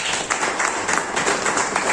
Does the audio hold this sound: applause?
yes